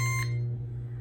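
Ninja Foodi XL IG601 7-in-1 indoor grill gives a single short electronic beep as its start knob is pressed, followed by a steady low appliance hum.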